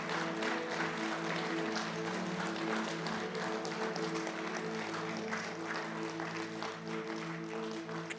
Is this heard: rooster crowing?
no